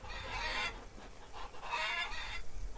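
Chickens cluck in the Farmer's Dynasty farming game, a couple of close, busy bursts of fowl chatter with short pauses between, no talking.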